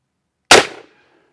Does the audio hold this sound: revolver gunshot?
yes